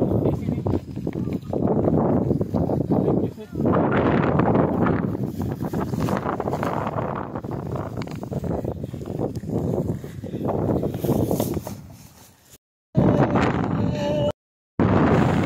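Strong gusting wind on the summit of Mt. Kalisungan in Calauan, Laguna roars and buffets the microphone in heavy rumbling waves, nearly continuous, with brief sudden cutouts near the end.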